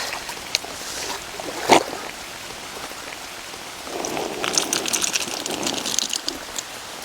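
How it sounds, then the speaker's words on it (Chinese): Steady heavy rain hisses throughout beside a small stream, swelling louder in the second half, with a sharp nearby clatter early on and no voices. "现在又马上下大雨了，全身都湿透了。"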